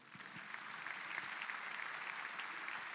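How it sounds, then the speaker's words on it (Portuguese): A church congregation applauds during a sermon, a dense and even wash of clapping from a large crowd that holds steady from start to finish, heard from a distance and without voices. "Pode aplaudir."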